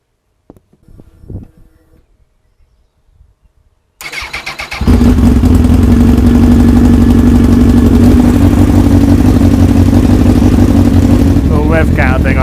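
Sitting in a garage, a Honda Fireblade motorcycle filled with Evans waterless coolant fires up after a few quiet clicks and settles into a loud, steady idle that runs on with a rough, throbbing pulse close to the microphone.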